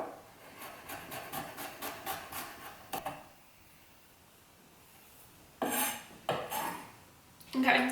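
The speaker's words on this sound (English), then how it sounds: "So I like to do a nice fine chop on the garlic." A knife finely chopping garlic on a cutting board: a quick, even run of crisp taps, a pause, then a few more bursts of chopping, close and clear.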